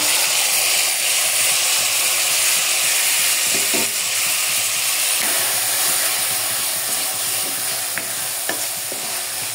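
Tomatoes sizzle in a hot pan while being cooked in a traditional style, a steady, loud frying hiss that runs continuously throughout with a few faint stirring clicks near the end.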